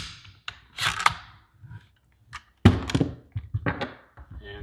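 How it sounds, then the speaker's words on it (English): The bolt catch of a Winchester Model 1911 shotgun is pushed and the action opened during basic disassembly: a few crisp, close metallic thunks and clicks separated by short quiet gaps. "So I will push my bolt catch and open this up."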